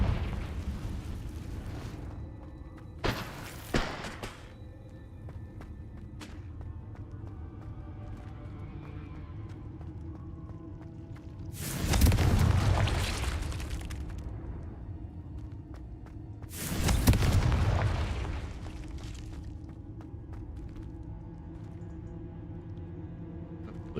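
Two loud, deep explosive booms from the Confringo fire spell in the Hogwarts Legacy video game, each a broad blast spread a few seconds apart, with a couple of sharper short bursts early on over a steady game ambience.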